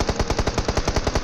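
Rapid automatic gunfire in PUBG Mobile, a tight run of about a dozen evenly spaced loud shots fired in one continuous close burst, with no talk over it.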